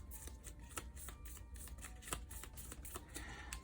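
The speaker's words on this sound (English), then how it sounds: "So we shuffle this up randomly." Arkham Horror game cards are shuffled in a steady run of crisp riffling snaps and soft slides, close and moderately loud, with no talk over them.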